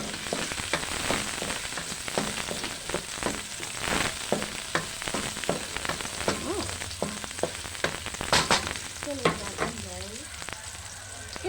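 Chicken feet frying in a pan with garlic and other ingredients for a binagoongan dish with coconut milk, giving a loud, continuous sizzle and crackle broken by frequent stirring clatters and spatula scrapes.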